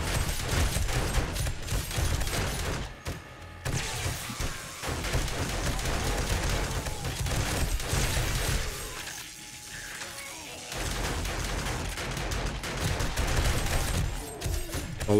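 An automatic turret fires at zombies in 7 Days to Die, with rapid, sustained bursts over a thick wash of combat noise, briefly dropping off before resuming.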